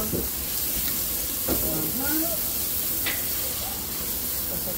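Seasoned food with paprika and pepper sizzles and crackles steadily in a hot pan as it is stirred, a close, continuous frying hiss with a few scraping stirs, while voices talk faintly nearby.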